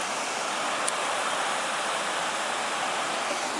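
The James River flows near the Blue Ridge Parkway by Big Island, producing a steady, even rush of water that stays constant from start to end, with no voices over it.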